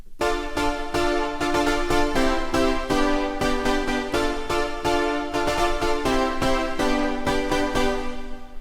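A bright, retro eighties-style synth preset in Native Instruments Massive X plays a steady, rhythmic pattern of stacked chords with punchy repeated notes, loud and continuous, no voices.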